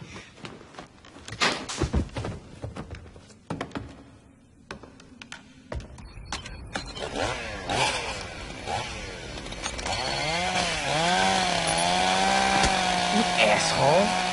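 A loud chainsaw-like engine revs up and whines steadily, preceded by clattering knocks and bangs, with voices talking over it.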